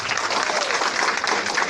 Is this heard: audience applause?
yes